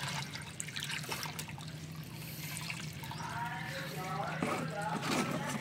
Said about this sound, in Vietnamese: mình xả nước